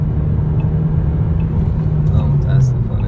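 A KMC J7 car accelerates flat out uphill, its wheels spinning through second gear, giving a continuous engine rumble and road noise from inside the cabin, with someone talking over it.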